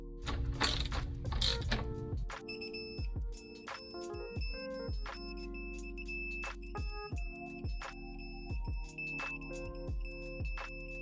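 Bolts on the transmission pan of a supercharged Range Rover L322 being tightened in sequence from the center outward, with repeated short metallic ratchet clicks in separate bursts and a faint ringing tone underneath.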